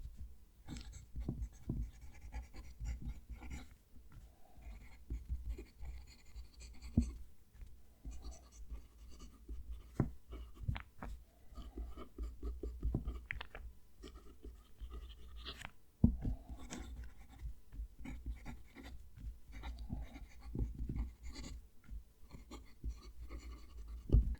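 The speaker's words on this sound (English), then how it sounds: "Writing with it, once you get the nib oriented properly, it's fairly smooth." A Parker Sonnet fountain pen nib scratches steadily across paper, a close, quiet, continuous scritching with small strokes and pauses, no voices.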